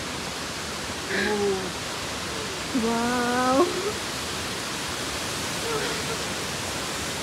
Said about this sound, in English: We reached the waterfall.